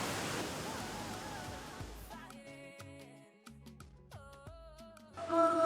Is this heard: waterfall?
yes